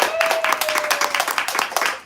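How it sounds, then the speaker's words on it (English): Close, energetic applause and clapping from an audience at a music video premiere, a dense stream of hand claps with a brief tone at the start. "all take a moment and applaud Christine for the amount of fucking work"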